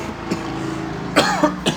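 A person with badly swollen tonsils from recurring tonsillitis coughs in short, harsh bursts, three quick hacks close to the microphone over a constant low rumble.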